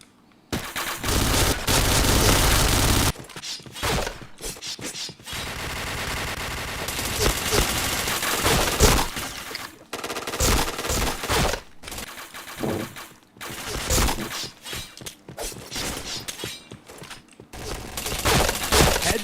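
Gunfire fills a shooting video game match: long rapid automatic bursts and single shots follow one another almost without pause, loud and dense throughout.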